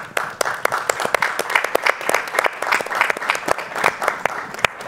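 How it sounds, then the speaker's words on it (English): An audience claps at the close of a panel discussion on Latin American diasporas, with dense, steady applause from a sizable crowd heard fairly close and loud throughout. "we applaud you"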